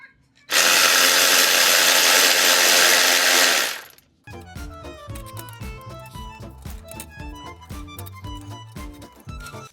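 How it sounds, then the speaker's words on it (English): A power tool whirs loudly for about three seconds while loosening a 16mm clamp bolt on the exhaust of a Mini Cooper S R56, followed by quieter uneven metallic clicks and clatter. "Next, I'm going to loosen up this clamp right here. This is a 16mm bolt."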